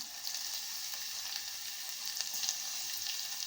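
Steady, close sizzling of crushed garlic cloves and curry leaves frying in hot oil, a continuous bright crackle with small pops, no voices.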